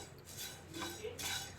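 A spoon scrapes and stirs tea masala spices and tulsi leaves being dry-roasted in a pan over medium heat. There are three soft metallic scraping strokes, fairly faint, with no voices.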